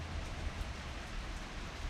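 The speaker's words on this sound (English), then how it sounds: "Well, we finally have a rain." Steady rain pours down on a garden after weeks of dry weather, a dense, even hiss of drops close by with no voices.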